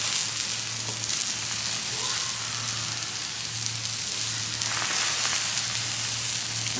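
Beef shank sears on a hot griddle coated with a little olive oil, giving a steady, close, crackling sizzle that continues without pause over a faint low hum.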